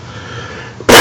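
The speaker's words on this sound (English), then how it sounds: "Excuse me, I had this cough going on." A single sharp, loud cough bursts out close to the microphone after a stretch of quiet room noise.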